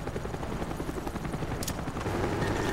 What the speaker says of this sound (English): Friendly spy plane inbound.